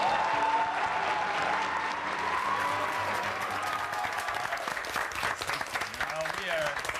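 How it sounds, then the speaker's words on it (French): School students at École St-Pierre clap together in a long, dense round of applause. It is steady and continuous, with a few voices audible under the clapping. "On s'applaudit"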